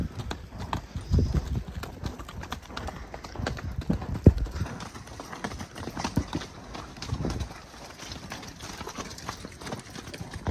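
Horse hooves clip-clop in a steady walking rhythm in fog, fairly close, with faint background noise and a few scattered knocks.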